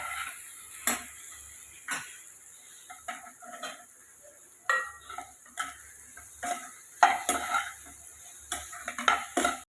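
Ingredients lightly frying in a pan give a low sizzle, broken by frequent clicks and clinks of stirring against the pan, with no voices.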